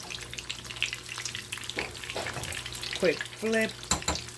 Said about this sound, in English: I'm gonna give them a quick flip